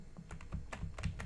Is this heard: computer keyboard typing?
yes